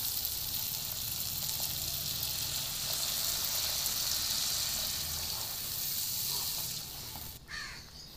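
Water hits a hot, oil-rich fried spice paste for a tangra fish curry, raising a loud, steady, close sizzling hiss that runs throughout and briefly shifts and softens near the end, with no talking.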